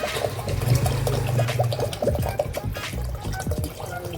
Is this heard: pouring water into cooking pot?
yes